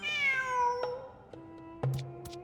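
A cat in Genshin Impact gives a clear, close meow with a falling pitch, followed by a few soft clicks and a short chirping call.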